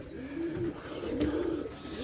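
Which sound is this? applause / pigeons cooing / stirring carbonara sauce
pigeons cooing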